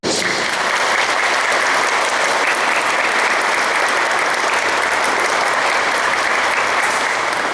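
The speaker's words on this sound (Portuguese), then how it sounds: "uma salva de palmas para vocês" Audience at a talk on fighting drugs bursts into loud, dense applause that holds steady from start to finish, many hands clapping at once with no voices over it.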